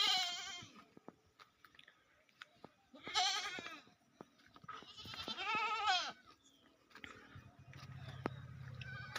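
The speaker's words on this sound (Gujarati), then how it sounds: "આ મારા ઘરના બકરા છે" Household goats on a rural farm bleat in several separate calls, each lasting about a second, with faint chewing and ambient noise between them and a low steady hum at the end.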